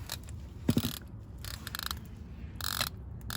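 Ratchet wrench working the oil drain plug loose underneath a 2000 Honda Civic with 60,000 miles, a few quick metallic clicking bursts close by, spaced apart with pauses between strokes, no talking.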